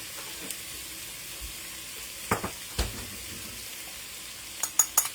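Homemade chili frying in a pan as garlic goes in, a continuous soft sizzle broken by a few sharp clinks of a utensil against the pan near the end.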